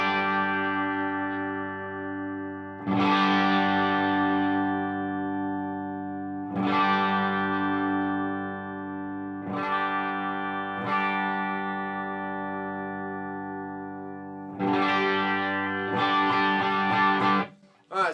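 Electric guitar chords strummed one after another through a Quilter amplifier with its tone-shaping level raised, each ringing out with long sustain, clean and fairly loud, no voices.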